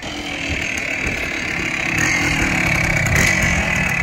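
Kawasaki 350 Bighorn enduro motorcycle with a rotary valve two-stroke engine, running steadily with a buzzy, raspy drone that holds for several seconds and swells slightly louder toward the end, close by and with no voices.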